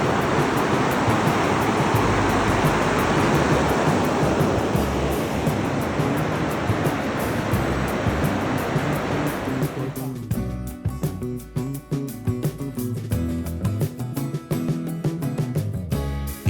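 The Kern River rushes loudly in a steady, broad roar of whitewater close by, then the sound thins into a choppier, splashing flow.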